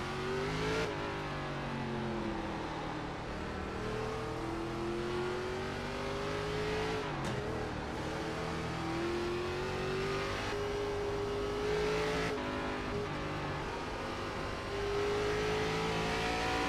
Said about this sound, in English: Letting off the gas over the crest just so I don't haze the tires over the hill.